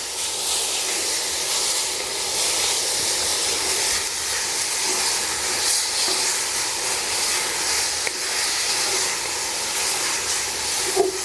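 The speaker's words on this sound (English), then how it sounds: "we're gonna stir until I get just a light brown on this." Beef browns in a pot for soup, a continuous dense sizzle and hiss with faint stirring knocks running evenly throughout.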